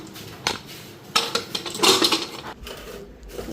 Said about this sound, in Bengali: প্রেসার কুকারে ঢাকনাটা লাগাই দিই